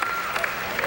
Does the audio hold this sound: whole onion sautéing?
no